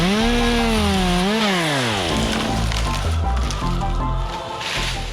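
A chainsaw making an angled box cut into a giant white oak screams at high revs, dips and rises in pitch as the bar bites into the wood, then settles into a loud, close grinding drone.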